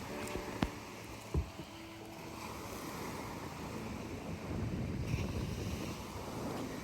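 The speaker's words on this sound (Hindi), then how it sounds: "इतनी प्यारी हवा थी, इतनी तेज़ पानी की लहरें थी।" Wind buffeting the microphone over the steady wash of waves on a beach along the Dubai corniche, with a couple of brief knocks early on and no talk.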